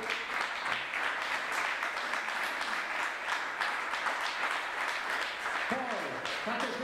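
Audience applauding on stage at an evening celebration marking 40 years since a cycling victory, a steady, moderately distant patter of many hands with a voice speaking over it.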